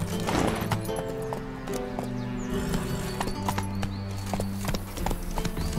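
Roach, the horse in The Witcher 3: Wild Hunt, gallops with rhythmic hoofbeats over steady background music, a brief whinny near the start, no one speaking.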